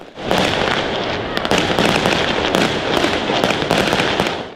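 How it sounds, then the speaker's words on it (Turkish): Continuous crackling and popping of fireworks, loud and dense, with sharper bursts scattered throughout. "Gökyüzüne gönderilen havai fişekler renk cümbüşü yaşattı."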